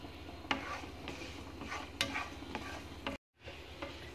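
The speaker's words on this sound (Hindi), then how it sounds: "अब मैं इसके अंदर ये जो बादाम थे ये डालूंगी और इसको 2 से 3 मिनट रोस्ट करेंगे।" Almonds being dry-roasted with cardamom and fennel in a pan, a faint soft sizzle with several distinct stirring scrapes and taps of a spoon. There is a brief dropout of sound near the end.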